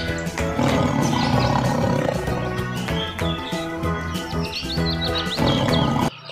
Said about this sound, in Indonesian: Wow, ini adalah harimau.